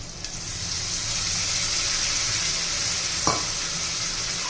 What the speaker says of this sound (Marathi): आता आपण थोडा पाण्याचा शिपका मारूया.